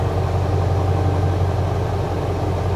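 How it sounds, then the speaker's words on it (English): A low, steady Ford 7.3 Powerstroke diesel truck idle rumbles continuously with a constant droning hum, close and unchanging throughout. "if I kill the switch, listen to the truck, it gets a little happier"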